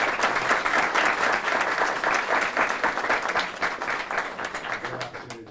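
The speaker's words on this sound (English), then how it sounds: "let's give Christina and the Governor another round of applause" An audience at an NC A&T event with Governor Cooper and a NASA astronaut claps in sustained, dense applause that tapers slightly toward the end, with some voices mixed in.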